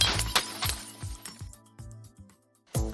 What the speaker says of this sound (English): destroy electronics, break some glass, or even throw some axes